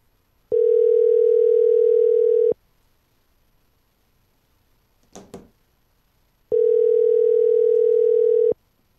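Ringback tone of an outgoing phone call: two long, steady electronic rings about two seconds each, separated by a gap with a brief faint rustle, clear and close with no voices.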